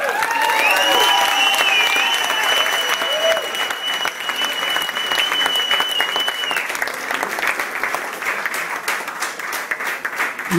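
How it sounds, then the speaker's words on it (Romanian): An audience claps loudly and continuously at an event, a dense roar of hands with cheering and whistles rising over it early on, gradually thinning toward the end. "Dar aplauze încă o dată și ne bucurăm că sunteți alături."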